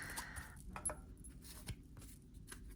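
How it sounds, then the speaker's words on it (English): Soft, continuous papery shuffling and riffling of tarot cards, quiet and close, with light flicks and taps throughout and no voices. "I'll just shuffle them on camera."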